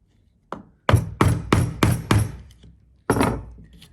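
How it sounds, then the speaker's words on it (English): A mallet strikes a mortise chisel into wood, cutting a deeper mortise hole with six sharp, close thunks: one single blow, then four evenly spaced hits in quick succession, a pause, and one final blow. "Use the chisel. I'm going to hit this a bit firmer now."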